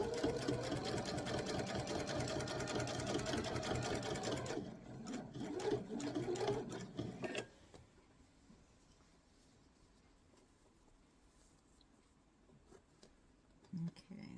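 A sewing machine stitches rope into a coiled bowl, a dense fast mechanical whir running steadily, close and loud, then stopping partway so only quiet room noise and faint handling remain.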